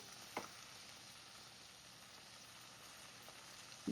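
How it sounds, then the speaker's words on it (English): Sea scallops sear in a hot pan with a soft, steady sizzle that stays quiet throughout, broken by a couple of faint clicks and a brief knock at the end. "you can see that the scallops are cooking"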